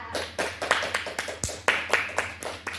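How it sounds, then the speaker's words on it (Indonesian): A classroom group claps for a student team after their presentation: a short burst of about a dozen sharp, uneven hand claps at moderate volume, with no voices over them. "Sekarang beri tepuk tangan untuk kelompok 1 karena sudah memaparkan hasilnya yang luar biasa."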